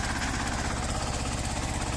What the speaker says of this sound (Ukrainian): трактор їде сам